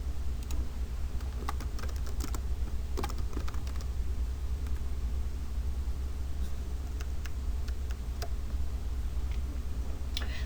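Typing on a computer keyboard while filling in a form, a steady run of soft, close key clicks and taps over a low background hum.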